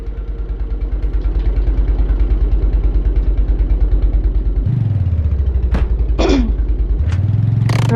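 Engine noise from a car in a survival building game, a steady low mechanical drone with regular pulsing that dips and rises in pitch as revs change, joined by a few sharp clicks near the end.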